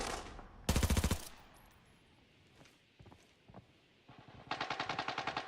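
Automatic weapon fire in the tactical shooter game Arena Breakout comes in two sharp rapid bursts, one early and one at the end, with scattered footsteps and faint thuds in the quiet between.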